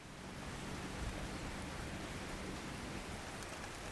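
Rain falls steadily in the Cape Otway forest of southeastern Australia, a soft, even hiss with no distinct drops or other sounds standing out.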